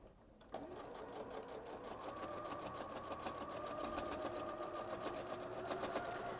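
Sewing machine stitching fabric, starting abruptly and running at a steady fast rhythmic whirr with clattering needle beats, close and continuous throughout, no talk.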